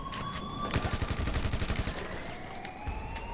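Gunfire in GTA 5 during a prison break heist, a rapid burst of automatic shots with sharp cracks, siren-like tones wailing over the top, loud and close.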